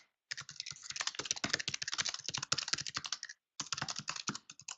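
Rapid, uneven keystrokes on a computer keyboard, typing in all caps in a chat box, clattering steadily for about three seconds, pausing briefly, then resuming, close and alone with no talk.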